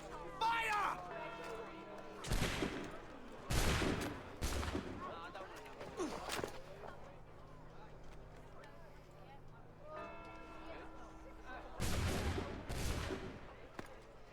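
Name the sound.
musket volley firing in Assassin's Creed video game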